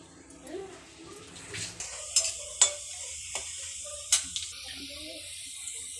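Onions frying in a pan give a soft, low sizzle, broken by several sharp clinks and scrapes of a spatula, with faint voices murmuring in the background.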